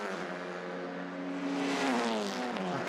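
Touring race cars in a TCR race at the Salzburgring roar along the track, a loud engine note climbing and then falling in pitch as a car passes, set against distant background engine noise.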